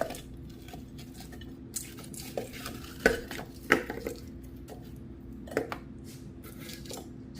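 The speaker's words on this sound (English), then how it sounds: "And now I'm going to put my bratwurst in here." Bratwurst sausages dropped into a crock-pot with a few sharp clinks and soft clatters of metal and ceramic, close by, several distinct knocks over quiet background.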